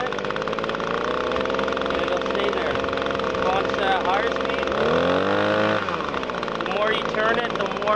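Small Echo PB-250 handheld leaf blower engine running steadily, its pitch sweeping up as the throttle is opened to a higher speed, then settling, close and loud under someone talking.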